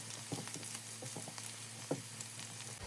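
Beef already fried, added to lightly browned chopped onion in a pan, giving a soft, steady sizzle with a few faint stirring clicks, quiet and close, with no talk.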